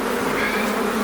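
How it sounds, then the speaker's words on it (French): Forager honeybees fly off an open hive, making a dense, close, continuous buzzing drone that stays loud and steady throughout with no talking. "celles qui s'envolent, c'est pas grave. C'est des butineuses."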